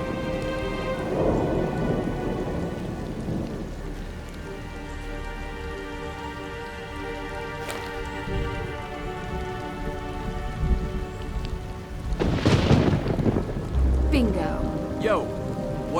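Heavy rain and a thunderstorm in the video game Nancy Drew: Midnight in Salem, a constant downpour with a sharp thunder crack late on, steady and close with no talk.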